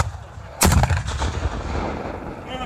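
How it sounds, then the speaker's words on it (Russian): A single loud cannon blast booms close by at a reenactment of the Battle of Friedland, then rolls away into a long, fading rumble. "Ну, наконец-то, ударила и наша пушка."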